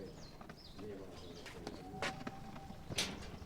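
Pigeons of a medium-sized Punjabi breed coo softly at close range amid light rustling and chirps, with a brief voice nearby.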